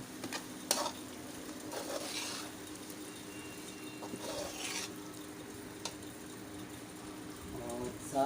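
Green chillies go into a masala in a pan for a fish karahi, the spoon stirring steadily against the metal while a soft sizzle and frying crackle run underneath throughout.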